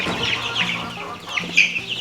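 Chickens cluck and squawk close by in a short burst of irregular, bright calls over a low background hum, with no talking.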